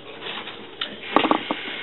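Warm tap water runs into a basin during a face-scrub routine: a steady, close hiss of flowing water with a few brief splashes and clatters near the end.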